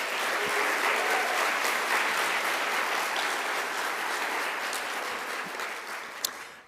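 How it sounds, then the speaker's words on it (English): Audience applause fills a livestreamed CreativeMornings New York talk with steady, dense clapping that holds for several seconds, then tapers off near the end. "Can we give them a round of applause?"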